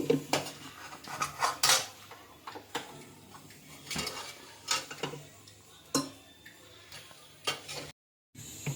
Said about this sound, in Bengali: মটনটাকে আমি কুকারের মধ্যে দিয়ে দিয়েছি।